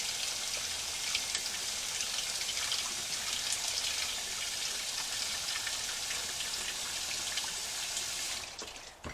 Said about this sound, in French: Je fais couler de l'eau dans le bocal en verre.